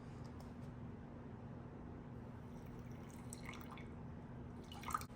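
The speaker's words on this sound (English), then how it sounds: "And now we're gonna do 50 grams of water." Water is poured from a measure onto dehydrated sourdough starter in a container, a faint soft trickle and a few drips over a low steady hum, ending with a small splash.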